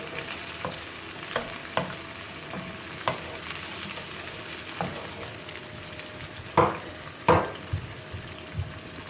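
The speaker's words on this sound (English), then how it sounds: "Give it a good stir." Onions fried golden brown sizzle with freshly added tomatoes in a pan on low gas, a soft steady frying hiss broken by periodic spoon scrapes and clacks against the pan, a couple of them sharper and louder.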